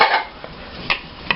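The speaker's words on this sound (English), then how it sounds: "Stir that up really good." A spoon stirs tomato sauce and tomato paste in a pot, giving a few soft scrapes and three light clinks against the metal, close and quiet, with no voices.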